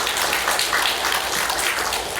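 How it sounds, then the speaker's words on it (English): Church congregation giving a round of applause during a service: a thick, steady roar of many hands clapping together, loud and even for a couple of seconds without pause. "We'll give him a round of applause."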